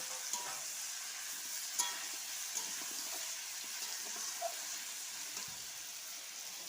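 Goat meat fries in a pan with chili paste, a steady close sizzle broken by occasional clicks and scrapes of stirring, with no one speaking.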